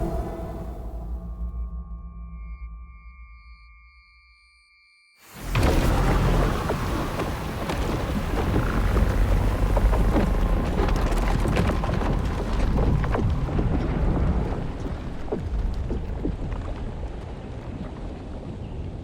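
Heavy monsoon rain and thunder in the video game Endless Legend 2, a quiet ambient opening giving way after about five seconds to a loud, dense, continuous downpour with rolling thunder.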